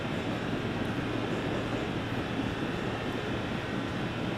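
New York subway Q Express train running on the N and Q lines, a steady loud rumbling roar of wheels and motors heard from inside the car, continuous and even throughout.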